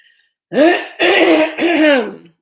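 A rough throat clearing followed by two harsh coughs, close and loud, with no other sound around them.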